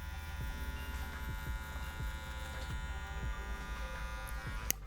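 Electric hair trimmers buzzing steadily up close while cutting hair for a skin fade, a constant humming drone with faint rhythmic changes as the blades pass, no talk.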